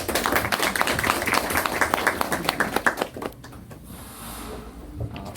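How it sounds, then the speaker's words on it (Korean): Audience applause welcoming a guest lecturer at a university lecture hall, with many hands clapping briskly for about three seconds before fading into the quiet room hush. "큰 박수로 맞이해 주시기 바랍니다"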